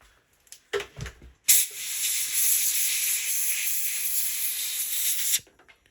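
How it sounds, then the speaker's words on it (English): Compressed air hisses in one long, steady blast of about four seconds into the switch of a 1986 Melectronic CD-5800 CD player, preceded by a few brief handling knocks and short bursts. "let me get some compressed air so we can get the contact cleaner inside the switch"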